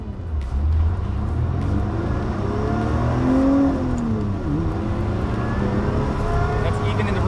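Lotus Evora GT accelerating on a wet road, engine note rising and sweeping in pitch under a steady rumble, heard from inside the cabin with someone talking over it.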